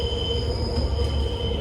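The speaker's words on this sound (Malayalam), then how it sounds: "മെട്രോ എന്ത് ശാന്തമാണ്." Metro train wheels squealing on the rails as a steady, continuous high-pitched screech over a low rumble, loud and close throughout.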